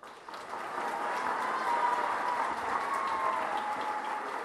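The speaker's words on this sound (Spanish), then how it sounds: "Los aplausos de reconocimiento a nuestro ilustre invitado" Audience applause for an honoured guest at a master-class ceremony, a sustained, even roar of clapping that swells in after a quieter start and holds steady, somewhat distant and dense.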